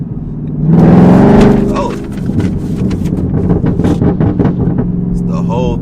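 A loud Chevrolet Camaro engine roars and revs briefly, then settles into a rumbling idle while someone talks over it.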